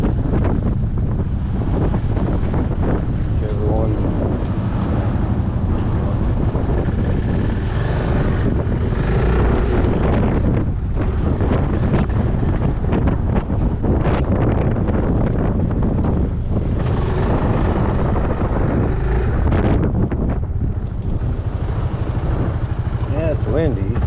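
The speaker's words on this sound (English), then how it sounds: "It's windy." Strong, steady wind roars and buffets the microphone for the whole ride on a Yamaha Majesty 400 scooter, loud and broadband, with the engine and road noise blended underneath.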